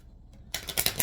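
Tarot cards being shuffled in hand, a quiet start followed by a short burst of soft crisp riffling and flicking, close and alone.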